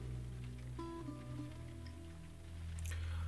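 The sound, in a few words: rain falling outside, from the video game The Last of Us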